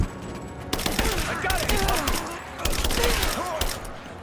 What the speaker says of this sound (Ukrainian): з якої сторони ви там стріляєте, я ж вас не бачу